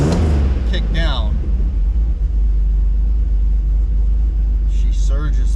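Car engine holding a high idle, a loud steady low rumble throughout with brief voices at the start and end.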